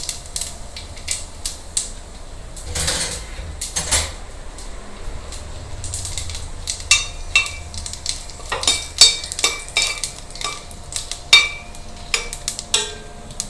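Fennel seeds, cinnamon, cloves and bay leaf fry in hot oil and ghee for a soya paneer biryani, a low steady sizzle broken by clusters of sharp crackles and spoon scrapes throughout.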